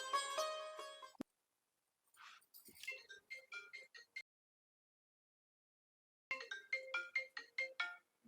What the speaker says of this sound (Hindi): पूनम का फोन।